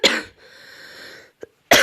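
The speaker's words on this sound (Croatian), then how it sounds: "Prokleti kašalj." A single person coughs close by: a harsh burst, a rasping wheezy breath, a short catch, then another sharp cough at the end.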